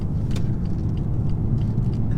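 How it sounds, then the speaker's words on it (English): A 2017 BMW 435d diesel engine under way, heard as a steady low rumble with broadband road and engine noise, continuous and close throughout. "Even though it's a diesel, it just sounds powerful."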